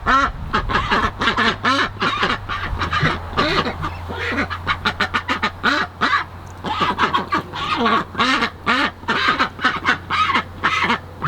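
A small flock of ducks by a backyard pool quacks in rapid, overlapping bursts, loud and near, keeping up a busy chatter for the whole stretch.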